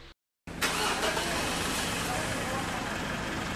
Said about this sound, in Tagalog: Tapos pwede mo na ngayon start itong makina.